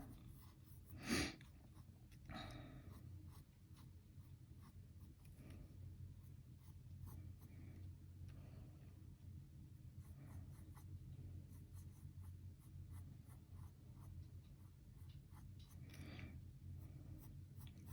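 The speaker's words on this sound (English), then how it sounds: "I'm using kind of a sketch style where I'm lightly picking my pencil up and getting the general shape I want" Pencil lightly sketching hand-drawn letters on paper, a soft continuous scratching with short strokes and lifts, close and steady throughout, with one brief louder rustle near the start.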